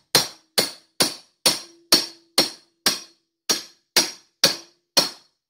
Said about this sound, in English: I'm going to hammer the top of my Arbor and push the punch right down through it